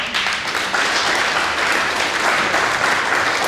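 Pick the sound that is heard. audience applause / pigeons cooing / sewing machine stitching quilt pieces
audience applause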